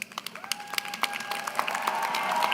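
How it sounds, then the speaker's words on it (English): An audience at a UCF fall commencement ceremony applauds, a dense patter of many hands building into steady applause in a large hall, with a faint sustained tone running underneath. "please show your appreciation to them with resounding applause"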